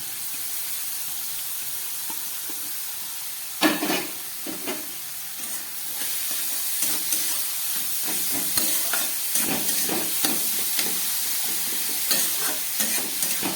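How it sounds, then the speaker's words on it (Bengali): Pointed gourd pieces fry in hot oil with a steady, busy sizzle that runs throughout, broken by louder bursts of spatter and stirring scrapes as the pan is worked. No one speaks. "এই তেলের মধ্যে এই পটলগুলো আমি এবার একটু ভেজে নেব"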